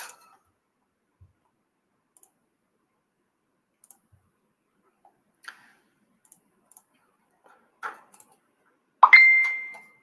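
A phone notification chime rings out once near the end, a bright, clear tone that follows a scatter of faint clicks in an otherwise quiet room.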